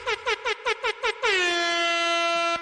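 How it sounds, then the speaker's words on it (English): Air horn sound effect blasting in a quick run of six short honks, then one long sustained blare that holds before stopping, loud and close. "You deserve an air horn for that."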